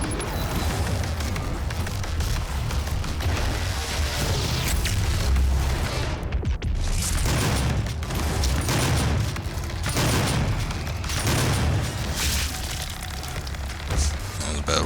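Dense, loud game combat from DOOM (2016): a boss fires volleys of missiles, with a continuous barrage of booming blasts and rapid-fire shots that runs almost without a break.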